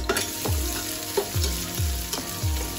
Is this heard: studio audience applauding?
no